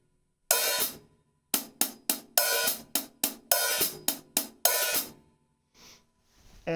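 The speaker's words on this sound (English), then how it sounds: "When you play an opening, again, if you're using just the tip of the stick, it's going to sound like this." An open hi-hat played with just the tip of a drumstick gives a series of about ten washy, sizzling strikes in an uneven rhythm, close and unaccompanied, before fainter sounds at the end.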